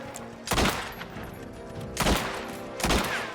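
Gunfire in the video game Mafia: Terra Madre: three loud, separate gunshot bursts spaced about a second or more apart over a steady game background.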